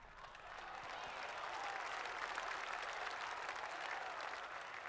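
Crowd applause in the golf video game EA Sports PGA Tour swells at a tournament course and holds as a broad, even roar of clapping at moderate distance, with no commentary over it.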